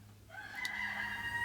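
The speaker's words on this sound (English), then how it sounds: "Sorry about the roosters. They're really loud." Roosters crow loudly nearby, a drawn-out cock-a-doodle-doo rising from a quiet background and holding strong to the end.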